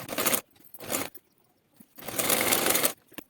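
A sewing machine stitches a belt onto a blouse in short bursts, a rapid whirring rattle running briefly, pausing, then running longer, close by with no talking.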